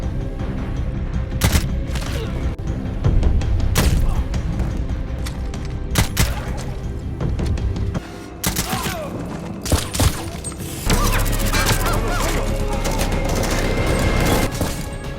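Gunfight between DEA agents and cartel members in an action film, with dense bursts of automatic gunfire, heavy booms and sharp shots crashing repeatedly and loudly across the scene, overlaid by faint shouting.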